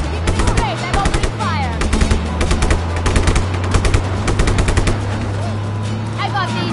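Rapid machine gun bursts in the open-world action game Just Cause 3, loud repeated volleys with short gaps over a sustained engine drone and other game effects.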